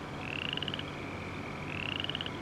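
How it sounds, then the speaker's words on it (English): Frogs in Farming Simulator 25 on the Chipping Norton map give two rapid trilling croak bursts over a low steady outdoor ambience, with no talking. "There's the frogs."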